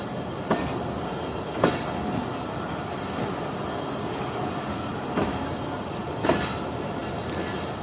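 The 40 Down Jaffer Express rolls into Habibkot Junction station with a dense, steady rumble of rail noise. Sharp clanks from the wheels over rail joints strike at irregular intervals, loud and close.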